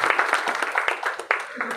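Audience at a community gathering in Gwalior clapping together, a brisk, uneven patter of hand claps close by, mixed with crowd murmur.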